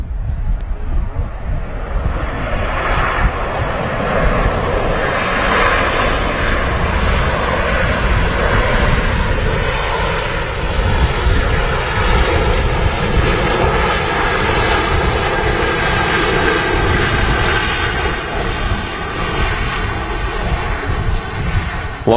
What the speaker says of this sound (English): lot of noise there from the Ryanair 737-800 series aircraft